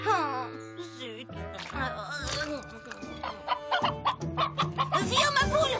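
A cartoon hen clucking in a My Little Pony episode, a string of close, bright rapid clucks and squawks with voices in the scene around them.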